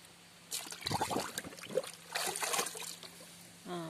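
Water is poured from a tin can to rinse it outdoors while organic fertilizer is being mixed, producing quiet, uneven trickling and splashing bursts, with a short voice near the end.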